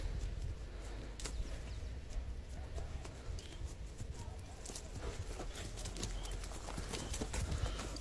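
Horse hooves clip-clop steadily as a thick-set, well-bred horse is walked and turned in a circle outdoors, a close, continuous patter of steps over low rumbling background with some voices.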